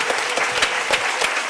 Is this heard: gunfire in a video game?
no